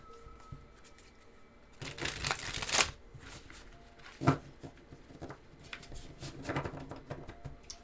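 Tarot cards being shuffled by hand close up, a few quick riffling bursts with soft rustling between them, no voices.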